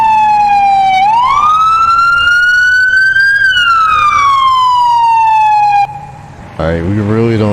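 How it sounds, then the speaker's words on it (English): Police car siren in the Police Simulator LAPD mod video game, a loud close wailing tone rising and falling slowly for several seconds before cutting off, followed by a voice talking. "we really don't need the siren like that."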